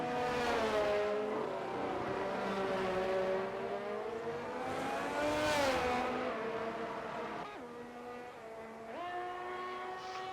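Haas Formula 1 car engine in a racing video game, a loud sustained high-pitched whine that rises and falls with revs, dropping sharply on gear shifts near the end.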